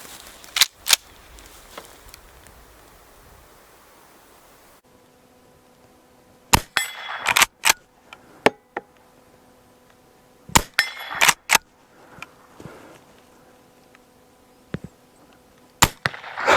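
Colt and Winchester long-barrel rifles fire at milk jugs and steel targets outdoors, sharp cracks in irregular clusters with ringing metallic impacts and clinks, separated by quiet stretches.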